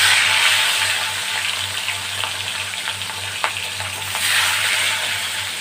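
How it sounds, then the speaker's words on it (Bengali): Fish heads fry in hot oil in a pan, giving a steady close sizzle with small pops and crackles and a few sharper spatters. "মাছের মাথাগুলো আমি ভেজে নেব।"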